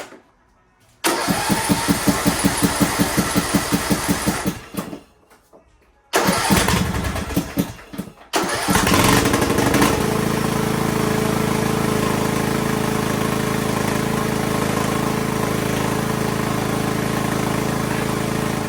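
A small riding lawn mower engine, a Poulan Pro PP175G42, cranks rhythmically, cuts out, cranks again, then catches and settles into a loud, steady idle, heard up close with no talking.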